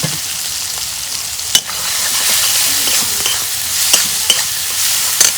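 Chopped onion and green chilli frying in oil for egg curry, a steady bright sizzle broken by several sharp stirring scrapes and clinks, close up with no talking.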